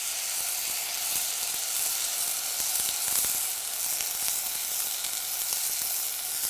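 Vegetables sauté in a hot pan for millet pongal, giving a dense, even sizzle with scattered crackles and pops, close and continuous with no speech.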